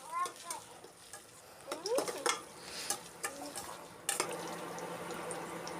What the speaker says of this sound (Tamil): கருவேப்பிலை ஒரு கொத்து போட்டு ஒரு கிளறுங்க.